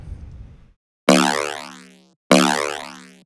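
Two deep, resonant synth hits transposed down octaves ring out one after another, each decaying with a wobbling, springy tail, after a brief rumbling fade.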